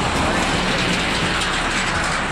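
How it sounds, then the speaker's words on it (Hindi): Steady, heavy rain hisses continuously across the whole clip by the Brahmani River in Odisha, dense and even, with no voices. "देख सकते हैं उधर में पूरा बारिश"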